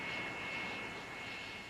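An F-86 Sabre jet fighter's engine runs steadily with a broad whooshing roar and a sustained high whine, heard alone and fairly distant.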